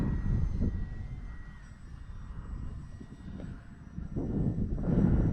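A small FMS PC-21 Pilatus RC model airplane engine hums steadily on its maiden flight, rising and falling as it passes, with wind buffeting the microphone and no voices.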